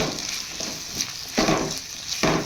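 Capsicum frying in oil in a pan for gobi manchurian, a steady broadband sizzle with brief louder bursts of stirring or tossing, close and clear, with no voices.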